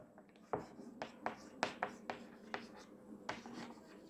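Chalk or marker strokes on a board during a biology lecture: about nine crisp taps and scrapes in an irregular rhythm, close and clear against a quiet room.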